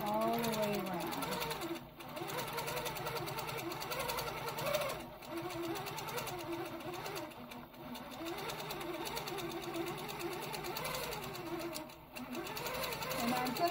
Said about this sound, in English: I'm just going to watch as I'm stitching and use the edge of the foot to maintain that half inch